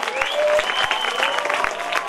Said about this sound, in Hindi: आज जोरदार तालियों में इस्तकबाल करना चाहिए